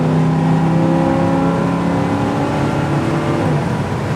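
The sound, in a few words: 1969 Chevy Nova accelerating and shifting gears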